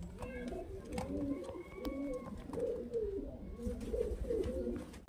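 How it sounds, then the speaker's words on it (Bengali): Highflyer pigeons coo in low, repeated throaty phrases, several birds close by in a soft rolling rhythm with a faint voice in the background. "তো আমাদের এই যে দেখতে পাচ্ছেন পায়রা ফ্রেন্ডস,"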